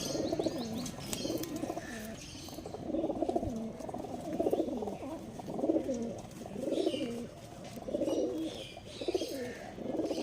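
Pigeons coo in repeated low, rolling phrases, several birds overlapping at a steady close level, with faint chirps in the background and no talking.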